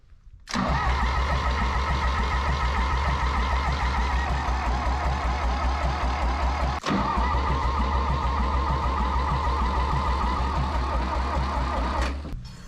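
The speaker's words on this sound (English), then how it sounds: "We'll just crank it and see if we get any smoke." A 1960 John Deere 1010 tractor engine cranks on full throttle, giving a loud, steady, rhythmic starter churn that runs for about twelve seconds with one brief break near the middle and no catch.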